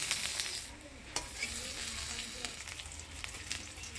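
Katla fish belly paturi wrapped in gourd leaves fries in a pan with the lid off, a soft steady sizzle with a few scraping clicks as the parcels are turned over.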